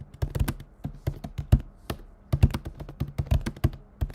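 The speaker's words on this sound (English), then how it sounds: "I'll just keep typing until I remember." Rapid, uneven clicking of fingers on a computer keyboard, close and dry, with bursts of quick keystrokes broken by short pauses and no voices.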